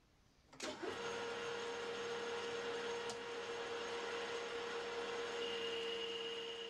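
A centre lathe with a boring bar takes a 3mm cut inside a drilled block. The machine starts abruptly, then a steady mechanical whir and a sustained cutting tone run on, close and even, with no speech.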